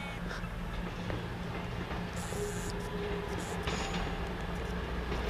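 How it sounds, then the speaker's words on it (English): A cross-country passenger train on the Newcastle to Reading service passes close by, a steady loud rumble of wheels and wagons lasting throughout with faint squeals over it, no talking. "Next up is the 1643 cross-country service from Newcastle to Reading."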